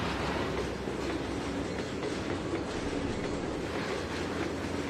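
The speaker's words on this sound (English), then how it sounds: "Let's start braking. Heavy braking, though." A heavy train braking in the Trainz 2022 railway simulator, a steady loud rumbling wash of wheels and rolling stock with faint clickety-clack running continuously throughout, no talking over it.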